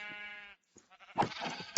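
A sheep bleats in Minecraft, one clear nasal bleat that cuts off, followed by a short burst of other game noise.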